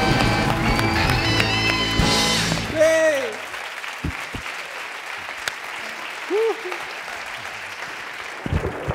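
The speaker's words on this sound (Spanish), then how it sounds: "un aplauso para él" Studio audience applause on a Spanish late-night talk show, a loud burst of clapping with a music-like tonal layer under it for the first three seconds, then quieter room sound with a voice speaking and brief knocks.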